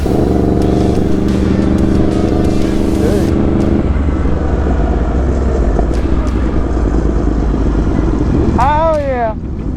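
Stunt sport bikes, among them a Yamaha R1, Kawasaki ZX-6R, Yamaha FZ-07, Honda CBR600RR and BMW S1000RR, roar loudly and steadily on a street as engines rev and pull away. Someone talks excitedly over the noise, and a siren-like warble rises near the end.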